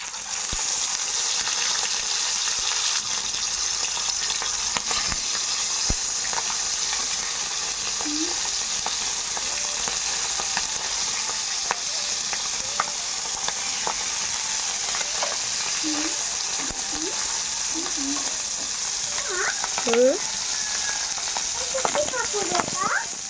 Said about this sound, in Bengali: এদিকে আলাদা করেই মাছটা ভাজছি